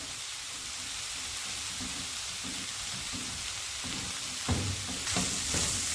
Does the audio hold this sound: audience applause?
no